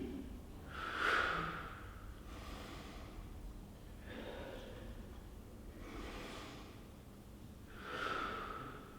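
Audible breaths drawn in and pushed out during a Pilates class, in a slow repeating rhythm with a few sharper, snort-like exhales, close to the mic and with no talk over them.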